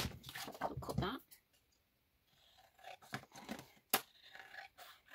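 Scissors cut through material for a handmade book folio, a few close snips and a short crunching slice separated by quiet pauses, with a voice talking briefly.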